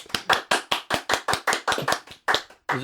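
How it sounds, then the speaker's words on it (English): A single person clapping hands in a steady, fairly quick rhythm, about a dozen sharp close claps with a brief pause near the end, no talking over them. "Just randomly clap every once in a couple of minutes."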